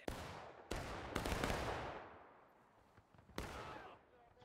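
Musket volleys in the video game War of Rights on the Forest Stream map, several sharp cracks with rolling echoing tails, fairly distant and faint, separated by short gaps.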